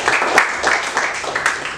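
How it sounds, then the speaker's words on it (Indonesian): A class of students applauding briefly after a pupil's turn, a short burst of scattered close hand claps in uneven rhythm. "Oke, tepuk tangan untuk Libo."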